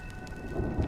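Rain pours steadily in the video game Honkai: Star Rail, with a low thunder rumble swelling toward the end, brief and at moderate loudness, no voices.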